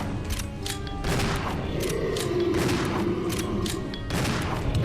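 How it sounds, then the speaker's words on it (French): Repeated shotgun blasts fired in the video game Resident Evil Zero HD, loud overlapping booms in quick succession across the whole stretch over a dense game soundtrack. "Je suis en train de vider toutes mes balles de pompe"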